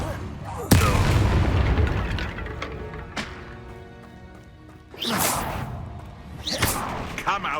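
Confringo blasting spell in Hogwarts Legacy, a sharp booming blast with a whoosh, followed by further thuds and bursts under game voices and speech.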